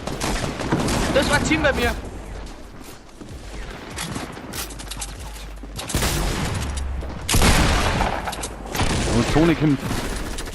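Gunfire in Fortnite Battle Royale comes in repeated bursts over about ten seconds, loud and close, with heavy crackling volleys mixed under excited German speech.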